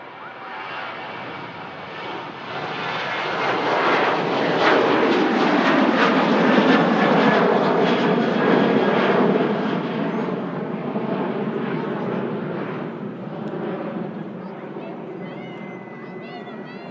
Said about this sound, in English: Standard Ryanair NG with a retrofit winglets. As I say, heading to Oslo.